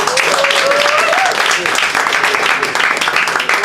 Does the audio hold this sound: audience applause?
yes